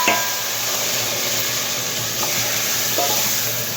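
Tomatoes, ginger, garlic and green chilies hit hot frying masala for a black chickpea handi, giving a steady loud sizzle with faint stirring knocks throughout.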